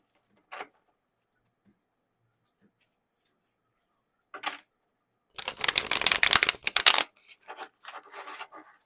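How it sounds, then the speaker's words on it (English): Tarot cards shuffled by hand, a few brief soft riffles early on, then a dense burst of rapid flapping and riffling that trails off into lighter card rustles, close and fairly quiet with no talking. "I'm here to read your cards for you."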